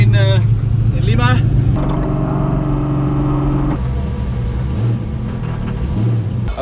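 The Beast, a Dakar rally car, drives through the streets of Lima, Peru, its engine a loud droning rumble that shifts pitch as it revs and changes gear, heard from inside with a voice speaking over it.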